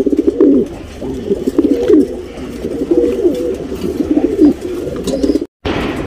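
A male tournament racing pigeon with gold, almond-shaded eyes coos close by. Soft, throaty, rolling coos repeat in steady phrases, broken briefly by a short gap near the end.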